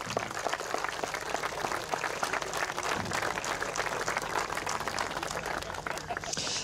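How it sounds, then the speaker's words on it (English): A crowd applauds steadily throughout at the European Coarse Angling Championship 2024 prize ceremony, honouring participants and coaches; the clapping is dense and fairly loud, with voices mixed in. "A big applause for all the participants and coaches."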